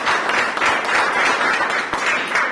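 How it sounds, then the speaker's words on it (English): An audience at a business talk gives a guest speaker a round of applause. The clapping is steady and dense and fills the whole stretch at an even, moderately loud level, with no pause. "let's give Courtney a round of applause for being here with us today"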